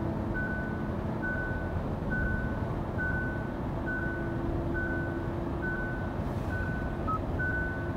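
A 2021 Hyundai Elantra Hybrid's hands-off steering warning sounds as a regular series of short, evenly spaced electronic beeps, about ten in eight seconds, over a steady road and cabin drone.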